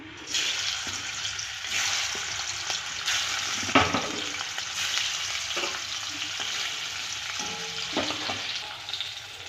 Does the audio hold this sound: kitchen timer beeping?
no